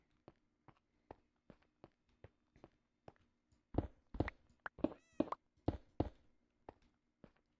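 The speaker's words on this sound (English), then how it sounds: "Getting close to the cats." Cats meowing in the Minecraft 1.17 video game, a series of short, evenly spaced meows that start soft, then grow louder and more overlapping with scattered taps, with no talking.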